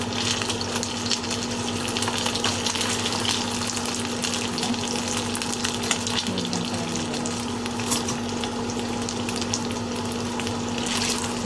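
Garlic longanisa sausages fry gently in a pan on low heat, giving a steady, even sizzle and crackle with no talking.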